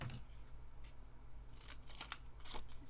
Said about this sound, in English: in a little bit of the pink, I would cut a tiny little square for the top here